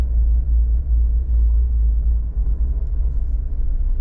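A car drives through a residential neighborhood in Wilmington, Delaware, with a steady low engine and road rumble that holds close and even throughout, and no talking.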